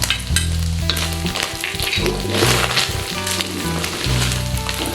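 Garlic frying in hot oil makes a loud, continuous sizzle and crackle. A spatula knocks and scrapes against the pan in irregular bursts.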